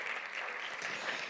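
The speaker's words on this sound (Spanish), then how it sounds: "aplauso" A conference audience applauds with steady, dense clapping that keeps an even level from start to end.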